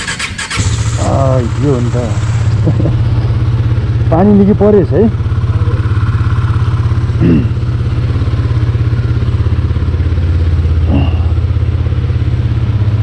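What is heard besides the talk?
motorcycle engine starting and running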